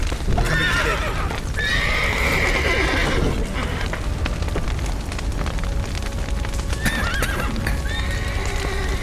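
Horses in The Witcher 3: Wild Hunt neigh and whinny loudly during a burning-barn scene, over steady roaring fire, crackling and hoof clatter. Shrill whinnies come in several bursts.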